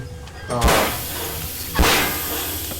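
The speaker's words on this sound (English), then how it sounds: "And that will produce steam in this room" Steam hissing from pipes after a valve is turned in the video game Penumbra: Twilight of the Archaic, two loud bursts of broadband hiss with sharp onsets, each tailing off, over background rumble.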